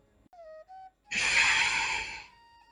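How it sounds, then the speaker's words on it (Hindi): During a yoga breathing practice, a long, hissing inhalation is drawn in through a rolled, pipe-shaped tongue. It is close and loud, lasts about a second, and follows a few short tonal sounds. "सांस अंदर लेना"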